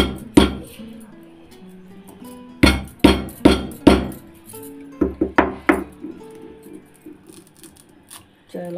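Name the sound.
dry ginger being pounded on a stone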